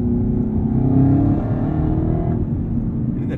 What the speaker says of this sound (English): You can even hear the supercharger whine a little bit in this car